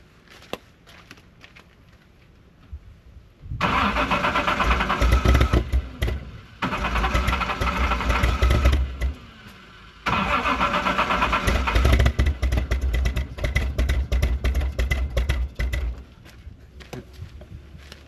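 A Reliant Scimitar GTE engine with timing out of adjustment, spitting back through the carburettor, cranks and fires after a quiet start, then runs roughly in two long loud bursts of uneven revving with a brief cut in between.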